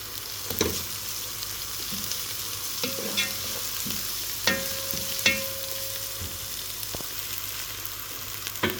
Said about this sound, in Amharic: ሽንኩርታችንን እንዲበስሏን ሽንኩርት እንጨምርበትና እናደርገዋለን።